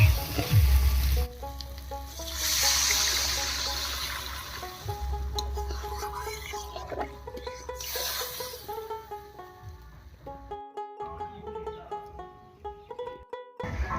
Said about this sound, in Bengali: আলুর সঙ্গে মশলা খুব ভালো করে কষে গেছে এবার এর মধ্যে জল দেবো